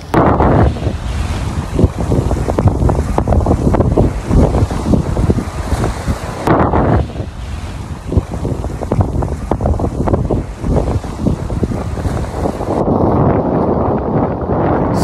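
Strong wind gusts roar steadily across an open seaside fish sanctuary at Maragondon, buffeting close and loud throughout with no voices, easing briefly partway through.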